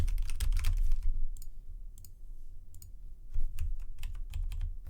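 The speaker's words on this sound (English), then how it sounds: "I can't type." Typing on a computer keyboard comes as quiet, uneven bursts of clicking keystrokes with short pauses between runs.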